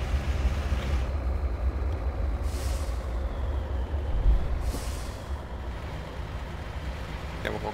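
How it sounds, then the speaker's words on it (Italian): A heavy truck engine brake in the Euro Truck Simulator 2 driving game, a steady low rumble with two short hissing air-brake bursts, no talk over it. "Quando sentite il freno motore quando devo"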